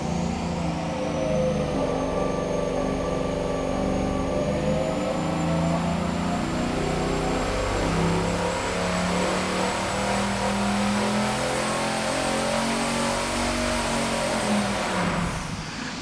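Turbocharged 440 big-block engine running hard on a dyno under boost, a loud sustained roar with a rising whine and steady pitch climb, close and continuous, ending abruptly.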